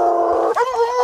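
Dogs used by poachers on big game howl loudly in a cell phone recording, a sustained wavering howl that breaks and rises into a second, higher cry.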